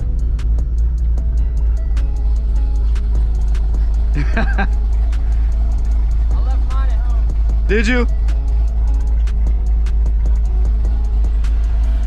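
Chevrolet Camaro ZL1 exhaust rumbling steadily at close range, a deep continuous drone with no distinct rev peaks, while people exchange a few words over it.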